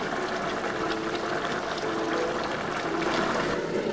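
Chicken pieces simmering in a pot of water over high heat, a steady, continuous bubbling and rolling boil heard close and alone throughout.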